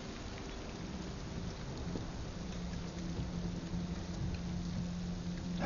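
Heavy rain pours steadily in a broad, dense hiss during a flood, with low rumbling like thunder beneath it and no voices.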